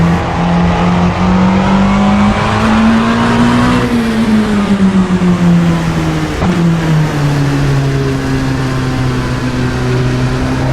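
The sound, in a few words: LMP2 race car engine and brakes in Assetto Corsa video game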